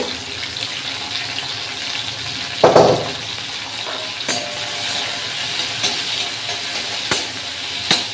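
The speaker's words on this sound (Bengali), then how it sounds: "চিংড়ি মাছটা অলরেডি আমার সেদ্ধ করা আছে, বেশি ভাজা লাগবে না, তো তাহলেও অল্প একটু ভেজে নেব" Pre-boiled shrimp frying in a pan, a steady hiss of oil with a sharp splash near the start and scattered light clinks and crackles after.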